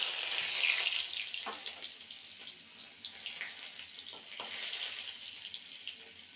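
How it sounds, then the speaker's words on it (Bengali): Crushed garlic cloves frying in hot oil, a soft steady sizzle with a few faint crackles and pops, fairly quiet and close, with no one talking. "এই তেলের মধ্যে রসুন 3-4 কোয়া দিয়ে দেবো থেতো করে।"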